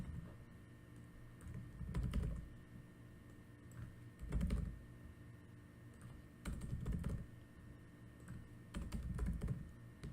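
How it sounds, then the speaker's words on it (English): Arrow keys tapped on a computer keyboard while coding, in four clustered bursts of soft, rapid clicks separated by short pauses, close and alone with no talk. "using the arrow keys, I'm clicking up, down, left, right"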